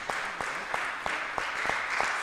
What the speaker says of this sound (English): Mumbi, let's clap for her as she comes